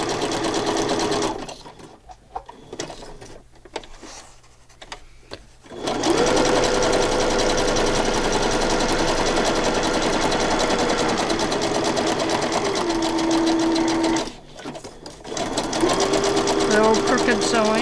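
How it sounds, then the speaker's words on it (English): Sewing machine running steadily as it stitches around a handmade pocket journal, a loud continuous mechanical whir with a short pause partway through, then resuming at a varying pitch. "Do a little crooked sewing just to keep us on our toes."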